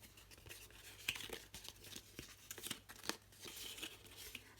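Paper corners of a birdhouse roof being trimmed, with faint close snips and tearing crinkles in short irregular bursts, quiet and alone.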